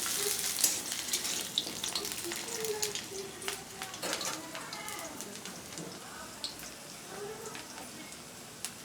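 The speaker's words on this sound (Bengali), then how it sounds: "তেল গরম হয়ে গেছে এবার আমি আলু দিয়ে দিচ্ছি এর ভিতরে" Potatoes fry in hot mustard oil in a wok with a steady, moderate sizzle, punctuated by crackles and stirring sounds, with faint birds in the background.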